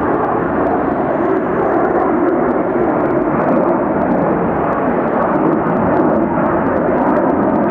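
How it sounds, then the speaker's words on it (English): A KLM Airbus A330 airliner flying over Atlanta Hartsfield airport, a loud, steady broadband engine roar that fills the whole stretch without letup. "It looks like an Airbus A330."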